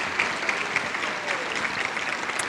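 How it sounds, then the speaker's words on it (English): An audience at a community awards ceremony claps steadily, a dense, moderately distant round of applause without voices. "let's give one round of applause, another round for John Vita"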